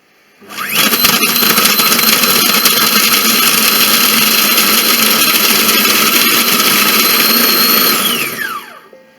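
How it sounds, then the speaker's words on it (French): A kitchen mixer runs at speed 9 to blend spaghetti bolognese sauce in a closed bowl, giving one loud, steady, high-pitched motor whir of about eight seconds that starts abruptly and winds down at the end. "on va mixer ça 8 secondes à la vitesse 9"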